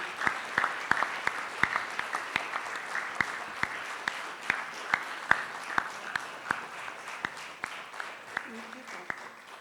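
An audience at a Ukrainian remembrance gathering applauds soldiers who came home alive, with steady clapping throughout, sharp individual claps standing out in a loose rhythm, and a voice briefly heard near the end.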